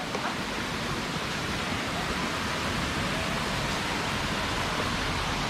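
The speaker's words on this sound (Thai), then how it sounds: "บรรยากาศน้ำตก ลานลักนครนายกครับ" Lan Rak waterfall in Nakhon Nayok, Thailand, gives off a steady, dense roar of falling water that fills the whole stretch without pause, close and even, with no voices over it.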